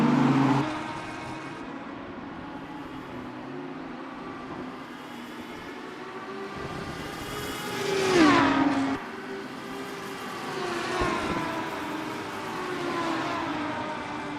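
A race car on the Long Beach street circuit sweeps past with a rising then falling engine pitch around the middle, its engine note steady and loud on either side, with no talk over it.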